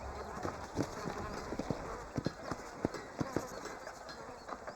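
Horse hooves clip-clop at a steady trot in the Western video game Red Dead Redemption, sharp regular hoofbeats close by under talking voices.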